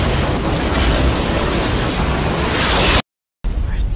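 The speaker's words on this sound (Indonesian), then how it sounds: "hingga menyebabkan sebuah ledakan yang sangat gede" A huge explosion in a monster film, set off when a falling pillar hits beside a truck: a loud, sustained roaring blast that cuts off abruptly into silence before faint rumbling resumes.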